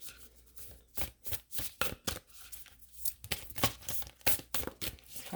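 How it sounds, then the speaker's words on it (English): Large oracle cards are shuffled by hand, close and fairly quiet, giving a string of crisp, papery riffling and slapping bursts in an uneven rhythm. "These cards are so big to shuffle."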